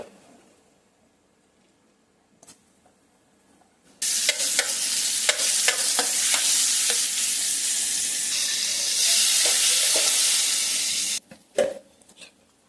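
Butter sizzles loudly in a pan for chicken soup, a bright steady frying hiss starting abruptly after a quiet opening and running for several seconds with scattered crackles and light stirring clicks, then cutting off near the end.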